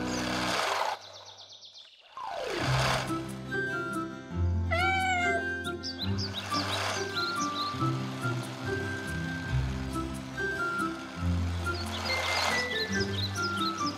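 Cartoon kitten meowing in short high-pitched calls over light background music and water-like ambience, with no voices.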